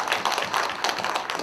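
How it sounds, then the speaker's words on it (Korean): An audience at a book launch ceremony for a history of general Jeon Bong-jun claps, a short, lively run of dense hand claps close by with no voices over it. "애쓰신 우리 권호영 선생님을 위해서 박수 한번 좀 부탁드리겠습니다"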